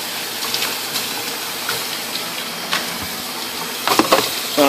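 Tap water running steadily into a container to make a lukewarm soak for a snake, a continuous gushing hiss with a few light knocks and splashes near the end.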